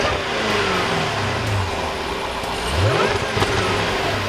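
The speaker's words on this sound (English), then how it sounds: "then you have a deeper throatier exhaust." A 2017 Jaguar F-Type's exhaust revs hard and close, its deep, throaty note climbing and falling through several sweeping throttle blips with no talking.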